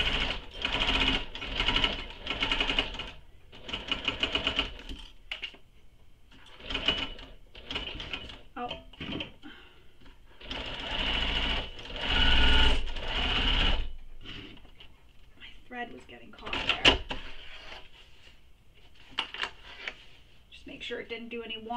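Sewing machine base stitching a backpack, starting at the bottom center: bursts of rapid mechanical stitching that start and stop repeatedly, with a voice talking between and over the runs.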